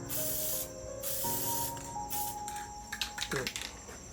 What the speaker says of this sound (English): Pretty soon it's not going to spray right because it's at the bottom of the can.